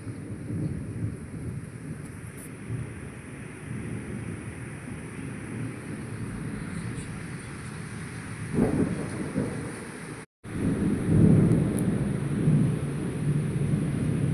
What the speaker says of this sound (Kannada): ಸಿಡ್ಲು ಸಿಡಿತಾ ಉಂಟು